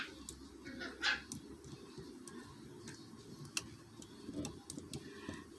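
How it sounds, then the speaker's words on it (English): Small puppies bark nearby, several short yips scattered over a hushed indoor background with light clicking, fairly faint and intermittent. "I hear the puppies over there."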